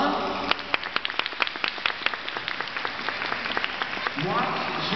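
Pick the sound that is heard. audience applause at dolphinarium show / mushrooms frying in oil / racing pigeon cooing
audience applause at dolphinarium show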